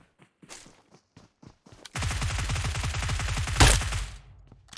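In PUBG Mobile, a few soft footsteps give way to a loud, close burst of rapid automatic gunfire lasting about two seconds, ending in a sharp crack before fading.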